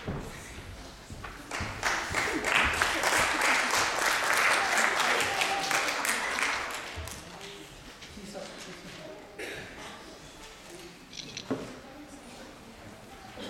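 At a mayor's ceremony, the audience breaks into applause for the executive committee: a swelling burst of many hands that peaks for several seconds, then thins into scattered claps and fades, with a speaker's voice briefly heard as it dies down.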